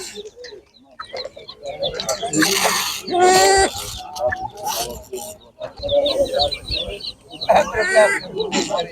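Russian Giant chickens cluck and squawk repeatedly at a busy animal market, close and fairly loud, with other birds calling around them and people talking throughout.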